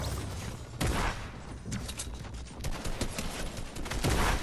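Rapid shotgun and rifle fire in a Fortnite match, dense overlapping bursts with sharp cracks recurring throughout, loud and busy with no pauses.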